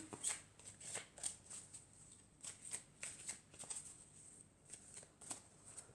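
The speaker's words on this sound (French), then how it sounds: "on va commencer par tirer quelques cartes de l'oracle de la triade" Oracle cards are shuffled by hand, a quiet, rapid riffling patter in repeated short bursts, close and soft, with no talking.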